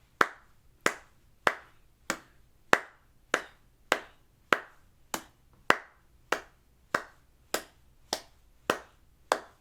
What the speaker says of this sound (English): let's clap it together with the repeat